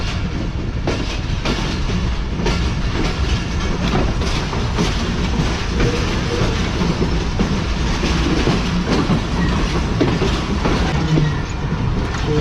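Passenger trains rolling on parallel tracks in Karachi, one moving in reverse, with a loud continuous rumble, rhythmic clickety-clack of wheels over rail joints and occasional faint squeals throughout.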